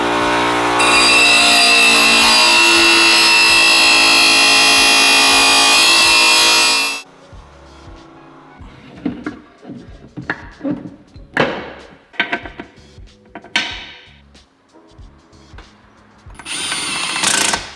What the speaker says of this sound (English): Pretty much with any K-Series transmission build you do with upgraded gear sets, you have to grind this fork.